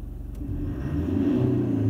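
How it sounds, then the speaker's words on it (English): A car engine idles low and rough, then swells into a brief rising rev as the throttle is quickly stabbed, a close, deep rumble with no talking. "Now, when we get into the gas, I'll just give it a quick stab."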